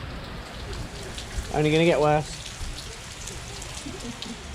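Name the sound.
heavy rain from Hurricane Ian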